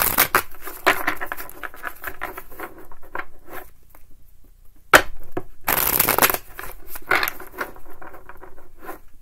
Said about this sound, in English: Shuffle, get them on the table for you.